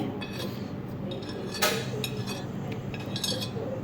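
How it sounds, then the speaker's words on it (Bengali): Sattu, chopped onion, chilli, pickle and coriander being mixed in a mixing bowl, with close clinks and scrapes of a utensil against the bowl over a soft background. "তার মধ্যে অল্প একটু জল দিয়ে মেখে নিলাম ছাতুটা"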